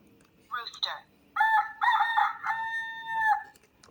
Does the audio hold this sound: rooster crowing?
yes